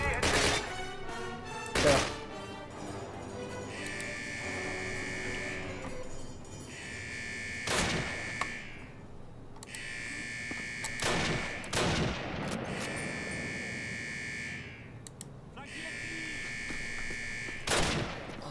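Scattered gunfire from a Call of Duty battle in the British campaign's Eder dam mission, with a few sharp shots spread across the stretch under steady tonal game music and brief talk.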